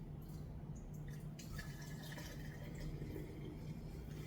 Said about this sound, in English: So the next step is I'm gonna put it through the sieve one more time.